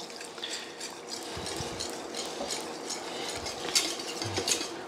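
Whisk or spoon stirring cold milk into a hot roux for béchamel, soft steady swishing with a few light metallic taps against the pan, fairly quiet and close, no voices.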